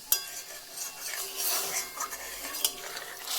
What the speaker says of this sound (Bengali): দিয়ে ভালো করে একটু নাড়িয়ে দেব